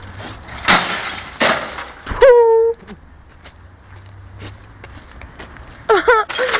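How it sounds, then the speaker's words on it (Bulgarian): A computer monitor's glass is smashed outdoors with repeated loud cracking blows, crashing shards, and a short high vocal cry between hits. "Туши цялото стъкло."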